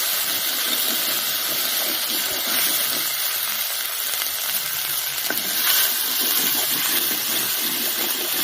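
Onion and tomato masala for an egg curry sautéing in a pan, giving a steady, close sizzling hiss with light stirring scrapes throughout and no talking.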